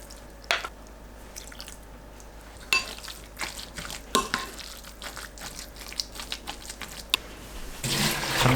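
Cabbage being rinsed under cold running water in a home kitchen makes soft splashing, dripping and squishing sounds close by, with a steadier rush of tap water near the end.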